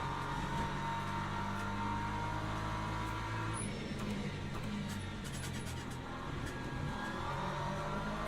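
LMP2 prototype race car in a racing video game at Sebring, a constant engine whir with a brief rising rev toward the middle, heard at a fairly low level.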